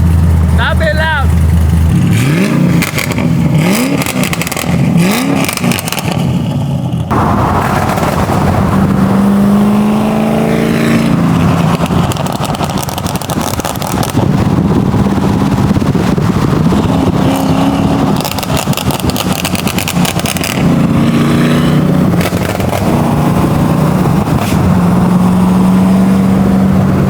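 Car exhaust revs hard and pops in bursts while the engine is pushed to shoot flames, with loud rising and falling engine notes across the span and a person talking between revs.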